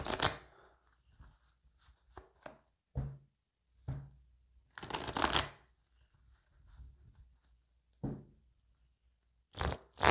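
Tarot cards are shuffled and cut by hand, in scattered bursts of riffling, slapping and scraping close by, separated by quiet pauses, with no speech.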